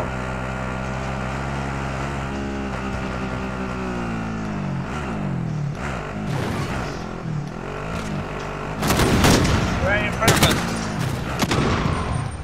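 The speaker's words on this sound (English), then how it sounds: "I hear snipers too" Gunfire rings out during a Call of Duty match, including sniper fire. The shots come as scattered sharp cracks over a steady engine-like drone, and a heavier burst arrives near the end.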